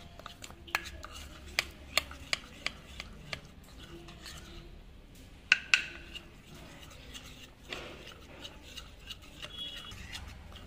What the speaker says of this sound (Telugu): ఈ మాదిరిగా మిక్సింగ్ అనేది చేసేసుకోవాలి వంటలు లేకుండా